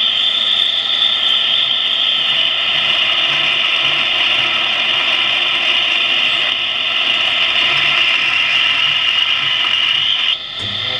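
A drill press rattles and vibrates steadily with a sustained high mechanical whine and buzzing chatter, loud and close, dropping off briefly at the end.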